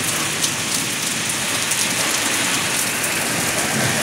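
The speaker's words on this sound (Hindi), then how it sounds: "ये देखो बारिश, बारिश से ज़्यादा तो हवा चल रही है" Heavy rain pours down in a dense, continuous hiss, steady and close, with a gusty rush of strong wind underneath and no voices, during a storm in the mountains.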